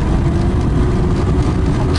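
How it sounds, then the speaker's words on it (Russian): Steady dense road traffic noise, a continuous low rumble of many car engines and tyres close by, with no talking. "Откуда столько машин?"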